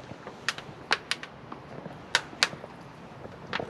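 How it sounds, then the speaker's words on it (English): Irregular sharp mechanical clicks of fuel injectors on a squarebody dually truck tick away at close range, quick and dry, with a faint low hum underneath. "I hear the injectors."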